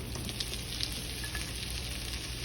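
Peppers and onions sizzle steadily in a skillet for a keto brunch dish, a dense, even frying hiss with faint crackles throughout and no talking.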